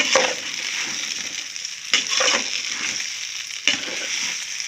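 Rice fries in ghee with vegetables and coconut for vegetable biryani, a continuous close sizzle broken by three scraping stirs spaced about two seconds apart.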